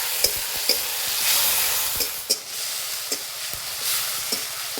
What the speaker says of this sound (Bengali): টমেটোর সঙ্গে পেঁয়াজ ভালো করে ভেজে নিয়েছি।